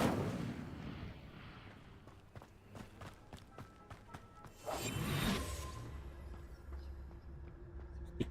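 An Incendio fire spell cast in the video game Eternalz, a burst of whooshing, roaring flame that swells for about a second amid scattered sharp game impacts and footsteps, fairly quiet.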